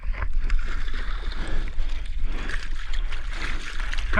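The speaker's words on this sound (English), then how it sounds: "Here's some waves." Ocean surf at an offshore break during Hurricane Dorian swell, heard from the water with steady roar of breaking waves, wind buffeting the microphone and water washing close by.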